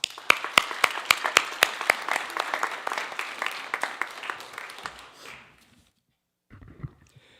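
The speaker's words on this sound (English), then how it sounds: "Please join me in thanking them with a round of applause" Applause from the audience at a high school National Honor Society induction ceremony, sharp individual claps loud and close over a clapping crowd, fading out after about five seconds, then a brief rustle.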